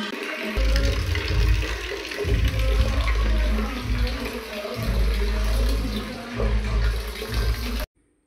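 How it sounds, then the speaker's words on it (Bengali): Water is emptied from a home water purifier tank, pouring and gushing in a continuous rush with low churning surges for about eight seconds before it cuts off abruptly. "এখন এই জলটাকে আবার সম্পূর্ণটা ফেলে দেবো"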